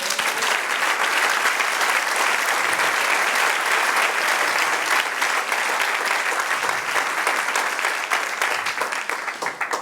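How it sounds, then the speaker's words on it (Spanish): A church congregation claps for nearly ten seconds during a sermon, a loud, dense wash of applause that holds steady throughout with no talking on top. "Dale un aplauso al Señor."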